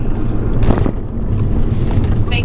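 Mercedes A45 AMG accelerating hard in manual mode with paddle shifters, a loud broad engine roar mixed with rushing wind and road noise, heard from inside the car with no pause.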